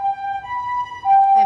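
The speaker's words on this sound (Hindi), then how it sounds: "एम्बुलेंस," An ambulance siren on a main road outside a residential colony holds a steady, loud wailing tone that shifts pitch partway through, with faint background noise beneath.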